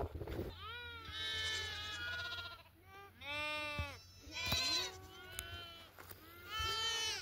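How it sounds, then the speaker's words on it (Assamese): Several goats bleat repeatedly in the Rajasthan desert, India, overlapping high wavering calls from a nearby herd including kids, with brief gaps between cries. "আপোনালোকে দেখিছে ইয়াত ইমান ছাগলী আছে, ছাগলী পোৱালি ছাগলী"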